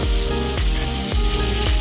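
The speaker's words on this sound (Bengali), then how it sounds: "বেগুনটা হালকা ভাজা হয়ে গেলে এবার আমি দিয়ে দিচ্ছি মাছের তেল" Katla fish fat added to a pan of lightly fried eggplant, crackling in a loud, steady sizzle, close up, with a few scraping strokes repeating through it.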